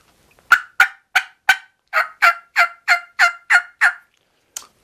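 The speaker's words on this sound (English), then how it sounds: "he gobbles back" A wild turkey gobbler answers a hunter's call from about 100 yards off with a run of eleven loud, rapid gobbles in a steady rhythm, then one fainter gobble after a short pause, with no talking.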